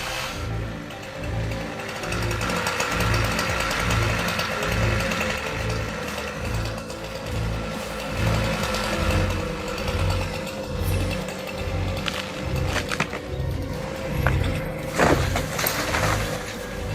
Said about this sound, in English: One of them expertly wields a chainsaw, cutting strategically around the trunk